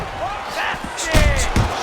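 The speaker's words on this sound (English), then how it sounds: "He lands a straight right." Punches land in a Fight Night Champion boxing game bout between Riddick Bowe and Pinklon Thomas, with a couple of thudding hits near the end.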